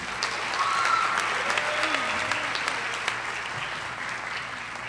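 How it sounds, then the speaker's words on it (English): An audience claps steadily and evenly at a university honors ceremony, a dense, moderate patter of applause filling the hall with no talking over it. "Another round of applause to Jonathan and Kevin."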